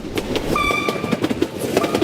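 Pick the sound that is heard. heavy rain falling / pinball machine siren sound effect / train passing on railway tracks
train passing on railway tracks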